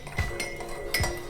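A spoon clinks twice against a glass while stirring honey into a mint drink, two bright taps spaced under a second apart over a steady background hum.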